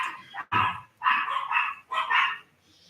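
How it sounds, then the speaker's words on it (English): Several sharp dog barks in quick succession, close and loud, with short pauses between bursts and no talking. "I'm sorry if you can hear my dogs barking."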